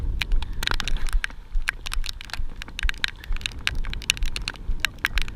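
Rain falls steadily during a fishing trip, a dense close patter of drops striking nearby surfaces with sharp crackling taps throughout, with no voices.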